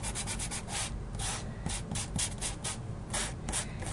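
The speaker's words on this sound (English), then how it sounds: "I'm using a sanding block. And what I'm going to do is I'm going to sand the top parts of this" Close, steady rubbing strokes of a sanding block on the top edges of a paper album, repeating in a brisk back-and-forth rhythm with brief gaps between passes.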